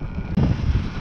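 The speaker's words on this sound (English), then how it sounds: "Oh, it's a windy day out here, I'm not gonna lie." Strong wind buffets a microphone on a windy seaside day while riding an electric dirt bike, a steady low roaring rush with one brief dropout.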